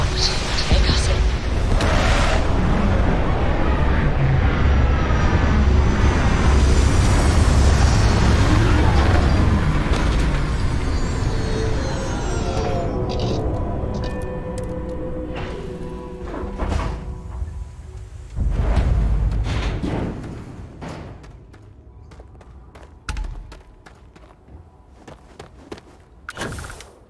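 Spaceship touching down in Starfield: a long roaring rumble with rising whines and mechanical servo sounds, heavy booms and thuds as it settles, then quieter clanks and hisses as the engines wind down.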